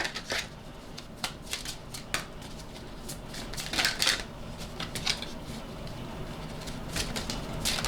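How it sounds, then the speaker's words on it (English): Playing cards slide one at a time out of a deck, making soft, close, papery flicks and snaps in an irregular rhythm with quiet rustling between. "I'm gonna pull out 5 cards, and it's gotta come out one by one"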